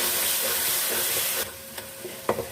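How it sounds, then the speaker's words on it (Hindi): Minced meat fries in a kadhai with turmeric, salt and chili. A steady, close sizzling hiss suddenly drops away to quieter frying with a few scraping stirs. "कीमे को हम भून लेते हैं।"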